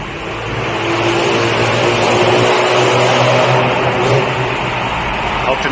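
An old four-door Nissan Skyline 2000 GT with no catalytic converter and a low exhaust gives a loud, steady engine and exhaust roar as it drives past, close by and sustained throughout.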